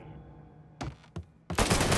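In the Mafia 3 video game, gunfire comes as two sharp close shots followed by a dense, loud burst of rapid fire.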